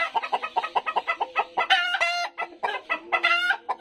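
Laying farm hens in extreme heat cluck in quick repeated bursts, close and fairly loud, with a few longer drawn-out calls rising over the clucking.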